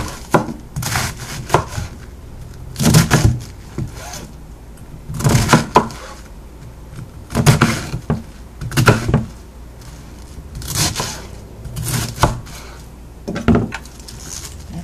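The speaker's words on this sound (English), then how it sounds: "I'm going to slice it like I was cutting for coleslaw or sauerkraut, long shreds." A knife slices vegetables into long coleslaw-style shreds on a cutting board for a crock pot pork chop dish, giving close, crisp chopping strokes in bursts with short pauses between runs.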